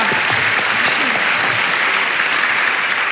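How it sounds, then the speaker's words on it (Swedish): Dense, continuous clapping from a comedy roast audience, steady and fairly loud throughout with no pauses. "en liten applåd"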